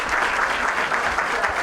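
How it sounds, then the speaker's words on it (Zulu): Audience applause at a farewell service in KwaNyuswa Emathibethu, heard as dense, continuous clapping from many hands that stays steady and fairly loud throughout, with no clear talk over it. "ngicela nimshayeleni ihlombe"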